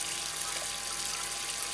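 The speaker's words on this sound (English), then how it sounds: "Now I'm just looking at water flow. It does come together in the middle." Water rushes steadily through a 12 by 50 inch beach sluice box, a continuous close hiss of flowing water with no break and no voices.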